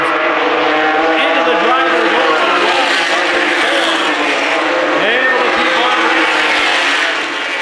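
ARCA Lincoln Welders Truck Series race trucks roar loudly around Winchester Speedway in 2009, engines rising and falling as several pass in quick succession, with a race commentator talking over the din.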